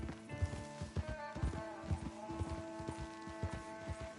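Horse hooves clip-clop in a steady walking rhythm in the Red Dead Redemption 2 video game, fairly close, with light game ambience and a faint tonal hum underneath.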